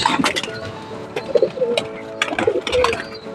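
Pet pigeons coo repeatedly while feeding, soft throaty calls coming in short bursts close by, with faint background noise and no clear talk.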